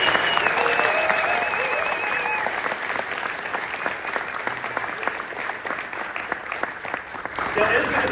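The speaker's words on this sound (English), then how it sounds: "So please, first off, give a round of applause for Ed." Sustained audience applause at a photography and filmmaking convention, dense steady clapping from a large crowd filling the room for several seconds, with some talk faintly beneath it.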